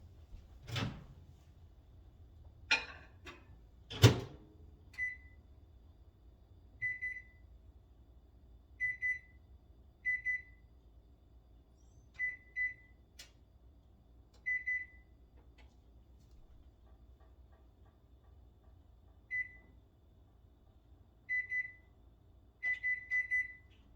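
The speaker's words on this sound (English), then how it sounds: "I'm gonna put it in a microwave for 7 minutes" A door clunks shut and buttons beep, then a microwave hums steadily while short, high electronic beeps chime at intervals.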